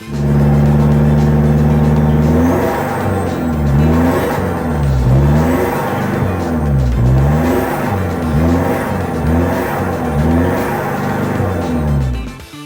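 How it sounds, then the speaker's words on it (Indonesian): A Ford Everest fitted with an HKS Carbon side-exit full exhaust revs hard several times in a row, loud and close, its deep rumble rising and falling in repeated sweeping blips with no talking. "udah pasangin full exhaust system dari HKS Carbon model side exit yang gahar banget"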